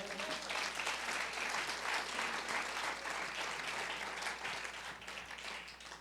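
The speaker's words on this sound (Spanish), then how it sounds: "Denle un fuerte aplauso al Señor." A church congregation claps in applause to praise the Lord, a steady, fairly distant wash of many hands that tapers off slightly at the end.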